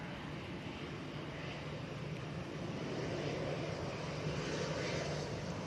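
A fixed-wing airliner taxies toward the far end of the runway at Manchester Airport, its engines giving a steady, broad roar that swells slightly halfway through, with a faint wind rush behind it and no talking.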